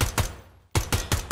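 Rapid bursts of suppressed rifle fire during a night raid in the tactical shooter Ground Branch, two quick shots, a brief pause, then four evenly spaced sharp cracks, close and loud with no talking.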